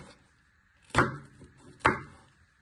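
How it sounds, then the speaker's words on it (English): A knife chops a pepper into little pieces on a cutting board, giving two sharp, separate strikes a little under a second apart against a quiet kitchen background. "you want to slice it into little pieces"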